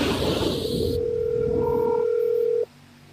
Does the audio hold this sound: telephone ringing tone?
yes